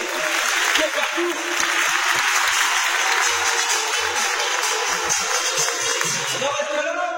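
Audience applause at a mounted police demonstration during a horse show in 2014 rises as a steady, dense wash of clapping. It holds at an even level for the whole stretch, with a faint low rumble underneath.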